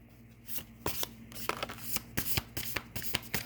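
Tarot or oracle healing cards shuffled by hand in a quiet room, a steady run of close, crisp riffling slaps and flutters for several seconds with no talking.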